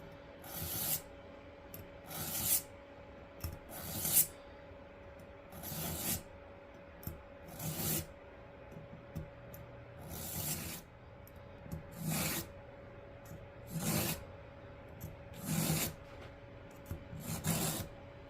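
Kitchen knife pulled repeatedly through the coarse and then the fine slots of a pull-through sharpener, giving a dozen or so short, evenly spaced rasping strokes, close and fairly quiet, with no talk.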